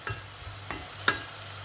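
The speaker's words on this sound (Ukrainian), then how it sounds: "Додала сюди порізані цибулю і чесник. І тепер на середньому вогні буду готувати" Quiet sizzle of chopped onion and garlic frying in a pan over medium heat, with a few soft scrapes and a light clink of a utensil stirring.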